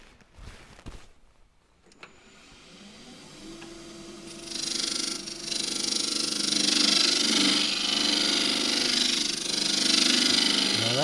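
A round nose scraper on a lathe tearing into punky box elder wood, starting with a few knocks, then a rising, continuous harsh scraping whine that grows louder and stays rough. Close, with no talk.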